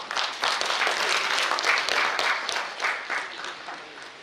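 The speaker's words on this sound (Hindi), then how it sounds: "माधव दादा के लिए सबसे पहले तो जोरदार तालियां" An audience at a ballet and dance performance gives loud, sustained applause to honour a dancer, a dense wash of many hands clapping at once before gradually thinning toward the end.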